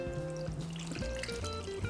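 Water trickles and pours steadily into a pan holding lemon and granulated sugar, a close, continuous stream with shifting bubbly tones and no talking.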